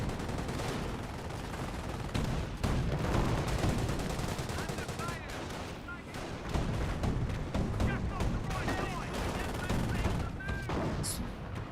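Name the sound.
incoming artillery and gunfire in Company of Heroes video game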